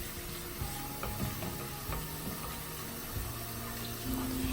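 Tap water runs steadily into a bowl of rice being rinsed for chicken fried rice, a continuous close splashing wash with small clinks and shifts, no voices.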